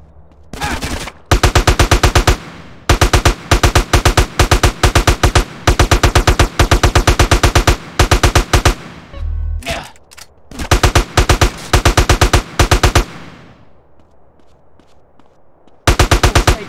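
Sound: gunfire from a gun in video game GTA San Andreas

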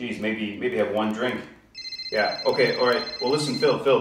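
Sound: telephone ringing with an incoming call

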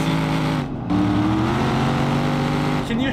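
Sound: V8 car engine revving in BeamNG.Drive video game

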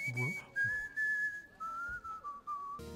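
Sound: person whistling

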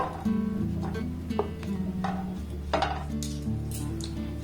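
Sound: bread pieces being put into a hot frying pan

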